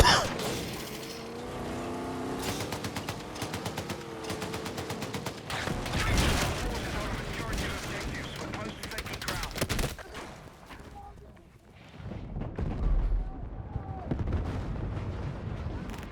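Booming tank cannon fire and gunfire in a video game, with a heavy blast around the middle and scattered shots and rumbling, loud and near, mixed over game music and effects.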